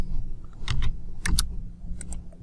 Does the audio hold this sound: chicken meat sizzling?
no